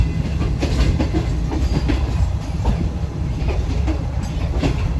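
Rolling along the rails, the Shalimar Express passenger train gives a loud, continuous rumble with rhythmic clickety-clack wheel beats, heard from inside the moving carriage.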